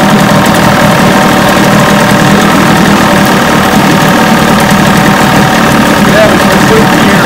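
A 1980 Chrysler 45 hp outboard engine runs after a tune-up, giving a loud, steady, close drone that holds evenly for the whole stretch without stopping.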